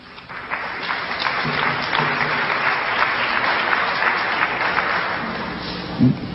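Audience applause at a talk on Egypt and the Moors in Europe, a steady dense clapping that holds loud and even for several seconds, with a brief voice and a louder burst near the end.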